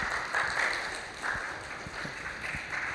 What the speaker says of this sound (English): Please welcome them to the stage and give them a round of applause.